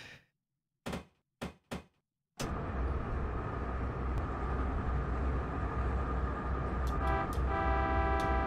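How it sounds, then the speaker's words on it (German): In the Train Crew game, a few short sharp knocks or clicks come first, then after a pause a loud continuous train rumble sets in, with a sustained horn-like tone rising near the end. "Wenigstens kann ich hupen."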